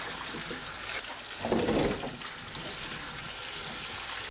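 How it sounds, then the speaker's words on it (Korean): Peeled ginger is rinsed under running water, a steady close stream with a louder splashing burst partway through before it settles back to a constant flow. "손질한 생강을 깨끗하게 헹궈 준비합니다"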